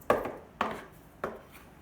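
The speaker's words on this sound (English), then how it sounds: "when you're measuring flour, you want a perfect measurement, so you scrape it off with the back side, the flat side of a knife" A knife scrapes flour level across a measuring cup while baking cinnamon banana bread, three separate sharp strokes spaced about half a second apart, close and fairly quiet, each fading quickly.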